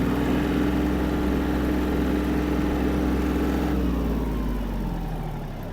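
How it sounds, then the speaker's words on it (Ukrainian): A Yanmar AF-250 mini tractor engine runs loud and steady close by at full throttle, its pitch holding high then easing down slightly as the throttle drops near the end. "Приємний звук двигуна, чисті, чистий вихлоп"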